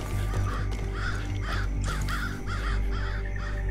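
Crows caw repeatedly in a dark forest in Far Cry 5, a series of harsh rhythmic calls about every half second over a low rumbling game ambience, moderately loud and close.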